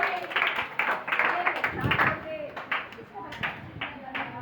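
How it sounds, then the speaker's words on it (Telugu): An audience at a Bible game claps for a group, giving a brief spell of scattered hand claps close by while a voice talks over it. "క్లాప్స్"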